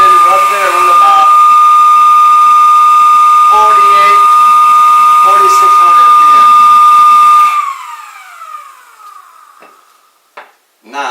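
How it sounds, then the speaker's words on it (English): A small DC motor spinning at about 4,600 RPM gives a loud, steady high-pitched whine with a piercing tone, then cuts off sharply and winds down into near silence with a few faint clicks. "here's the motor, DC motor. It's spinning right there on about"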